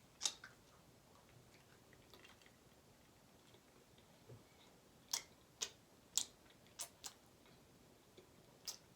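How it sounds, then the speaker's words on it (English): Faint, sparse mouth sounds of chewing butter chicken and garlic naan, a handful of soft clicks and smacks scattered over a quiet room, growing more frequent toward the end. "A lot of chewing"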